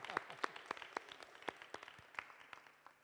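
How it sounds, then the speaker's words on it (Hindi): Scattered, fairly faint clapping from a small church fellowship group at a Friday prayer meeting, individual sharp claps in an uneven rhythm with voices murmuring. "ज़ोरदार तालियां"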